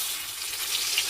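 Onion and tomato paste hits a hot pan and sizzles, a bright, dense hiss that stays steady and close, loud and unbroken, with no speech.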